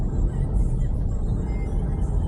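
Jeepneys and other traffic on Aurora Boulevard in Quezon City, heard as a steady, loud low rumble of passing engines with no clear pauses.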